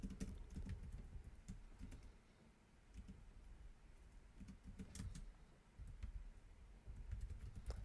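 Someone types steadily on a computer keyboard while setting up Java code in Eclipse, with close, quiet clicking keystrokes in quick bursts and brief pauses between.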